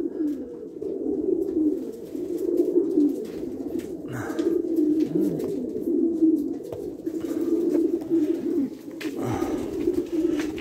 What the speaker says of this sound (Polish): To mamy wspaniałe gołębie,